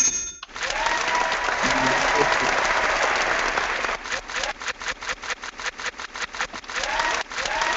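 Crowd applause sound effect: a dense burst of loud clapping and cheering that holds steady, then breaks into a rhythmic run of quick separate claps before swelling again.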